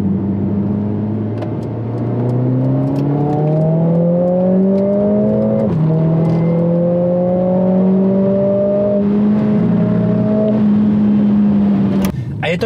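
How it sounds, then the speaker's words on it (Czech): A Mercedes-AMG CLA 45 S with a 421-horsepower four-cylinder in drift mode accelerates hard. Its engine note climbs loudly through several upshifts, with a brief crackle at the very end. "Samozřejmě si to i tak lehce přistřeluje v tom výfuku, ale není to vůbec nic agresivního"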